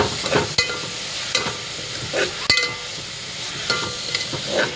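Beetroot for poriyal sautés in a pan, with a soft, continuous sizzle and repeated close scraping stirs every second or so.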